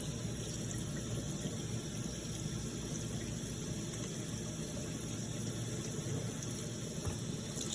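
Hot water runs steadily over a JT paintball frame to lift off foam, a constant close rushing wash with no pauses and no voices.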